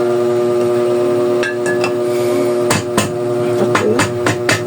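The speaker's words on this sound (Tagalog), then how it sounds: "Pinupukpok ko ito." Sharp metal hammer blows on a bicycle part during an overhaul, a few scattered strikes followed by a quicker cluster of close, loud knocks over a steady background hum.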